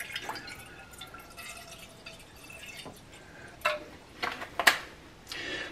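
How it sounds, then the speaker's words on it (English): A small amount of water trickles and drips into a pot on a stove set to medium-high, with light splashes that grow sharper near the end. "I just poured in just a little water into the pot."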